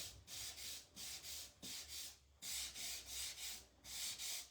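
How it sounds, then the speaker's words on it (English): Repeated rhythmic scuffing of sandpaper over the painted wood of a garden sign, about a dozen steady back-and-forth strokes, close and fairly quiet, with no talking. "I'm going to give it a little scuff here."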